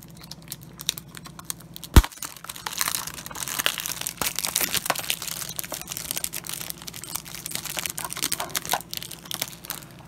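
Plastic wrapping being torn off a Pokemon Sword and Shield game box, close crinkling and crackling with irregular rustles after one sharp knock, continuing steadily without talk.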